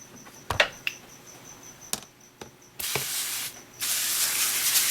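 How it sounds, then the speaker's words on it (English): A spray bottle mists down the side of an isopod enclosure in short hissing bursts, then in two longer sprays near the end, with a few small clicks and knocks before them and no talking. "I will spray down this side a little bit"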